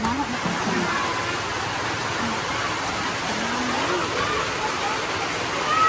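Heavy rain pours down in a steady, dense broadband wash that fills the whole scene without letup, with faint voices murmuring underneath.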